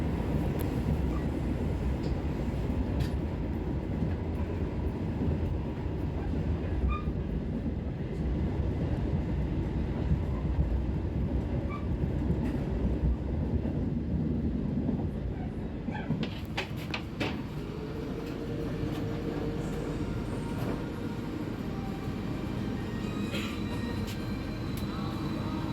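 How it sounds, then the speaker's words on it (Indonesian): Gaya Baru Malam Selatan passenger train running through the Kebasen Baru tunnel, a steady, loud low rumble throughout with a brief clattering change partway through. "Melintas di terowongan Kebasen Baru."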